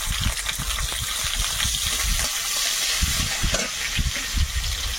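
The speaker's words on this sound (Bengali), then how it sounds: "পেঁয়াজটা হালকা ভেজে নিয়েছি।" Chopped onion frying in oil with whole cumin seeds and bay leaf, sizzling steadily with stirring bursts and scrapes throughout, close and fairly loud, no talking.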